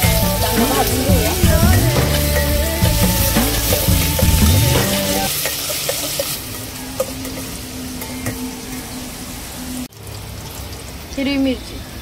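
Ginger and garlic frying in oil in a pan, a loud steady sizzle running throughout, with music in the first half and a few brief clatters near the end.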